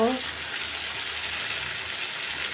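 Onion frying in mustard oil, a steady broadband sizzle filling the clip at moderate loudness, with a brief voice fragment at the very start.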